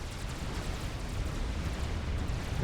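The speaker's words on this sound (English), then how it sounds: "it's just going to continuously just launch cluster after cluster of shells" Continuous dense rumble of artillery in a Supreme Commander 6v6 custom battle, cluster after cluster of shells launching and bursting into a steady, loud roar with no clear gaps.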